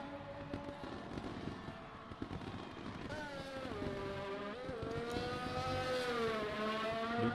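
McLaren Formula 1 car in F1 2020 at the Singapore Grand Prix, a high engine whine rising and falling through gear changes as it passes, with crackling pops and other cars underneath.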